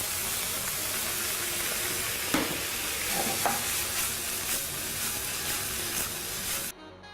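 Water is added to a hot, sizzling pan, giving a constant loud hiss and crackle with a few sharper pops, ending abruptly.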